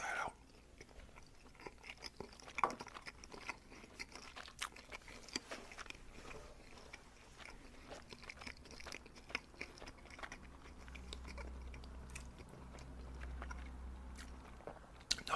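Spaghetti pasta with shrimp and sun-dried tomato being eaten up close, with soft biting, crunching and wet chewing sounds recurring irregularly throughout at a quiet, steady level without any talk.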